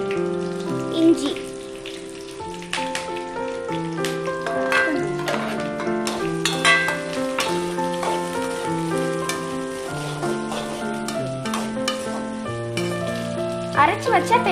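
Chopped onions, shallots, chillies, ginger and ground paste sauté in a pan for a tapioca stir-fry, a continuous crackling sizzle with stirring scrapes, a melody playing over it throughout.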